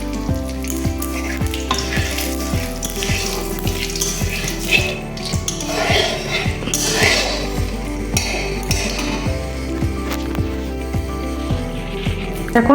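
Cumin seeds crackle and sizzle loudly in hot oil in a pan as tempering for a chicken curry begins, with a steady frying hiss and a low hum throughout.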